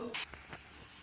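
A pressure cooker on a lit gas stove, cooking a small batch of rice, lets out one short, sharp burst of hissing steam, followed by a faint, steady background hiss.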